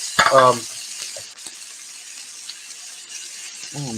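Something is quickly sautéed in a pan, giving a soft, continuous hiss with a sharper burst of sizzling at the start and another toward the end.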